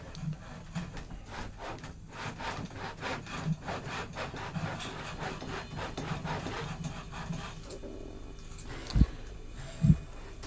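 A hand saw cuts fret slots into an ebony guitar fretboard with steady back-and-forth rasping strokes, fairly quiet and close, ending in a couple of sharp knocks.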